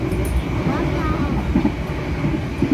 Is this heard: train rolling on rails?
yes